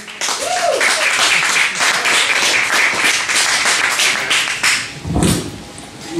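Audience applause for a comedian at a 2011 comedy night at McCormack's, a dense sustained wash of clapping and cheering that swells and fades, with a brief thump near the end.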